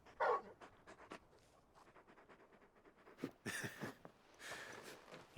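A large dog in Final Fantasy XVI pants in quick, soft bursts, close and fairly quiet, with a few louder breathy rushes toward the end and no talking over it.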